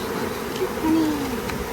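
Honeybees swarming around an opened hive during a hive split, a dense, steady buzz filling the air up close with a loud drone and no talk over it.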